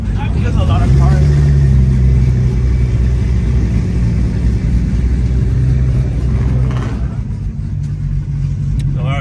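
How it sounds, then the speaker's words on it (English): Many cars rumbling and revving together at a racing event: a loud, continuous engine drone close by, with voices talking underneath. "There's a lot of cars here."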